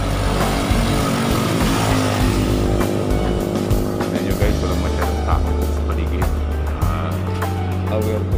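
Tricycles and motorcycles pass on a highway during quarantine, engines droning steadily with a rising and fading whine as vehicles go by, continuous and fairly close.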